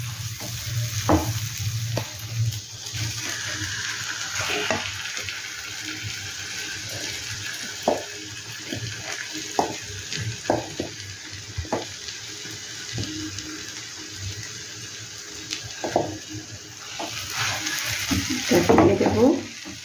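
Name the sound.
pea kachori filling of chili and ginger frying in oil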